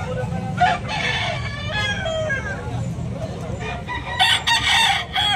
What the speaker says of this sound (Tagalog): Napakagandang manok mga idol.